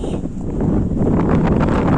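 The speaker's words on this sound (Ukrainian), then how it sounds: "Вітер страшний." Strong wind roars and buffets close to the microphone at an outdoor flea market square in Cherkasy, a loud, continuous rushing gust with no talking.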